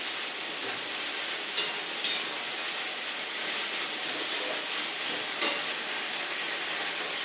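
Chillies fry in hot oil for a coriander, curry leaf and mint thokku, giving an even, unbroken hiss with a few faint clicks and taps over it.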